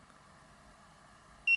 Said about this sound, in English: it's just a long press of this button here for 3 beeps